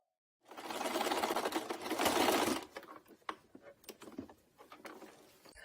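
A sewing machine stitches cloth face masks for a volunteer mask campaign, running in a steady continuous burst for about two seconds before breaking into short, uneven stop-start runs.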